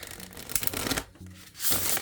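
Tarot oracle cards are shuffled in a few quick riffling bursts, close and crisp, with brief pauses between them.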